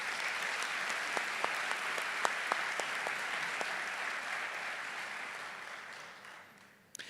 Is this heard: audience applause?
yes